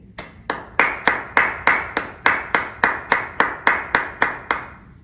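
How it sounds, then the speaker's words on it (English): A single pair of hands claps steadily at a graduation ceremony, about fifteen evenly spaced, sharp claps close by, with no voices. "Please join me in applauding those celebrating these achievements"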